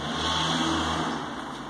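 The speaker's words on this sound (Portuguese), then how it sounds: "Um mundo onde os carros passam na rua fazendo muito barulho." A car passes noisily along a street, its engine roar loud and steady throughout the moment, close to the listener, with no voices.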